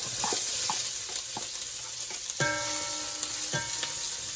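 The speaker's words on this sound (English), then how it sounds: "I'm gonna add the onion." Onion sizzles loudly in a very hot pan of oil, a steady frying hiss with a few stirring scrapes and clinks, no voices.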